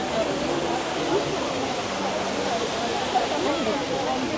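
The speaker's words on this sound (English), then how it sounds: "just in awe of this waterfall" A large artificial waterfall at a Vietnamese culture festival in central Moscow gives off a steady, dense roar of falling water, loud and unbroken throughout, with crowd noise blended into the wash.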